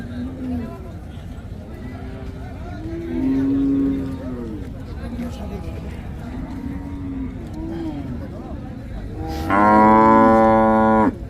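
A dairy cow with her calf moos at a busy cattle market, several low drawn-out calls giving way to one loud close bellow near the end, over steady crowd chatter.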